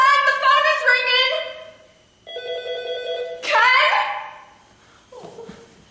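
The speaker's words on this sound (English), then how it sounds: "Ken, the phone is ringing!" On stage during a high school production of Neil Simon's comedy "Rumors," a telephone bell rings in several clear, bright bursts, close and prominent in a quiet theater.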